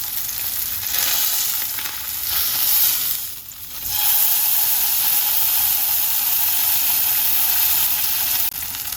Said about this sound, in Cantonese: 第4邊都煎妥咗啦